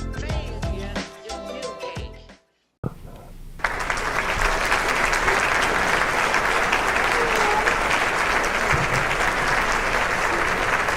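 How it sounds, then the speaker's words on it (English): Loud, sustained applause from a large podcast audience that rises sharply after a short silence and continues steadily to the end. "I think the applause is so much because we've been gone for so long"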